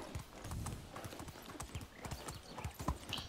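Rapid rhythmic hoofbeats of a galloping horse in the video game Medieval Dynasty, steady and fairly close, continuing throughout with faint background noise.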